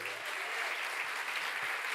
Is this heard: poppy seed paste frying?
no